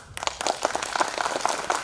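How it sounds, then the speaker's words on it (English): Audience applause after a speaker at a felicitation ceremony in Tripura, heard as sparse, uneven clapping from a modest crowd that begins abruptly and carries on steadily at moderate level. "Once again, a big round of applause for him"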